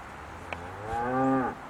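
A single cow named Rocky lets out one long, loud moo on a farm, its call rising and sustained for about a second against quiet outdoor background.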